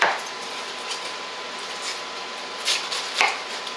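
A knife cuts through a cabbage in a home kitchen, giving a few soft, crisp chops and crunches spread unevenly over a quiet background, fairly close and fairly faint, with no voices.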